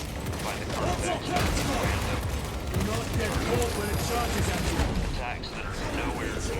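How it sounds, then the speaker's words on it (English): Dense, continuous gunfire from the Space Marine 2 video game, with rapid shots and occasional heavy booms that fill the whole clip at a steady loud level. "I just got a gunshot off of him"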